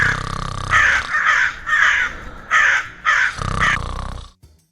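Crows caw loudly at night over a village farm field, a run of five or six harsh calls in quick succession before stopping abruptly, close and prominent.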